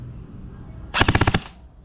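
Airsoft rifle with a tactical upgrade fires one short full-auto burst of about seven rapid, sharp cracks, close and loud, with a brief quiet tail after and no talking.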